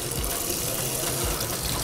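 Water gushing from a tap while someone washes hands and head, a loud, steady broadband splashing rush that runs unbroken and close for the whole short stretch.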